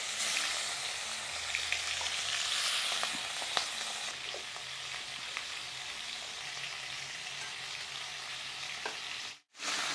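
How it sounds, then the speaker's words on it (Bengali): Fish fries in a salted pan, a loud continuous sizzle and crackle with a few sharp pops, running alone without talk before briefly cutting out near the end. "মাছ এক পিঠ ভাজা হয়ে গেছে"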